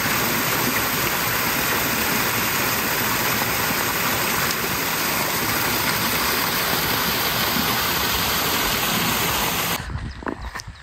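Loud, steady roar of falling water from an artificial waterfall close by, unbroken until it fades abruptly near the end.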